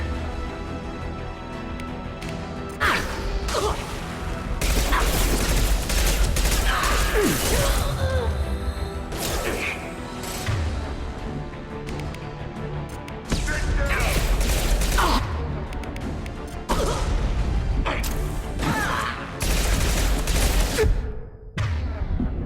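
Rapid, repeated gunfire bursts from Mass Effect 2 shooter combat, loud and sustained with dense volleys and brief lulls, alongside mechanical clatter and a low rumbling game score; voices speak intermittently underneath.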